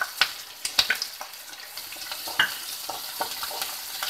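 Onions and green chillies fry in a hot pan over high heat, giving a steady close sizzle with scattered crackles and a few sharp stirring clicks, with no talking.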